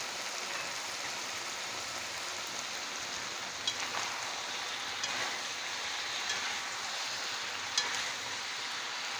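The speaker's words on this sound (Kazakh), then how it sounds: "Картофелімізді, капустамызды салып қуырамыз." Potatoes and cabbage frying together in a pan, making a steady, soft, rain-like sizzle that hisses evenly throughout at a low level, with a few faint clicks and no voices.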